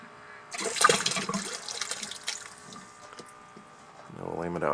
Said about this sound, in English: this thing will shoot a good shot of water